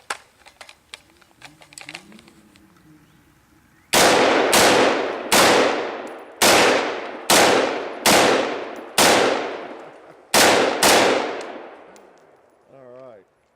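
Seven loud gunshots ring out from a rifle aimed at a bucket target at an outdoor range, spaced about a second apart with sharp decaying cracks, after a stretch of quieter handling noises.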